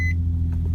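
A car engine idling just after being started with a key, a steady low rumble throughout, with a brief electronic beep at the start.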